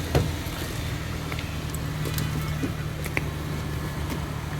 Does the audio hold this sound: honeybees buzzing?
no